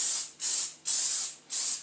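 Three quick hissing bursts from a cooking spray can onto non-stick pans, close and fairly loud, each a short sharp spritz separated by brief gaps.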